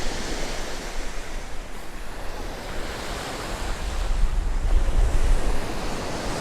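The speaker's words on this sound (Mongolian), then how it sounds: "Та нар далайн чимээг сонсоод гоё тайвширлыг мэдрээрэй." Ocean waves wash onto the shore in a loud, continuous roar of surf, swelling toward the end, with heavy wind buffeting the microphone and no voices.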